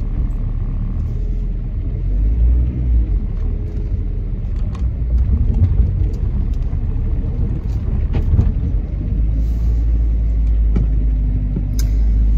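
Low, steady road rumble heard from inside a moving car, a close engine and tyre drone with faint knocks and clicks, no talking over it.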